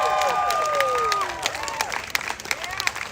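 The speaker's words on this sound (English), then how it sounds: "Can I get a clap for that?" Clapping and cheering from an outdoor crowd at a protest march, with loud whoops and shouts at first, then dwindling scattered claps and calls.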